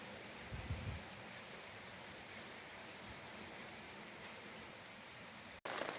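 Steady rain pours outdoors at Gasan mountain fortress, a dense, even hiss of falling drops close around, continuous throughout with no voices.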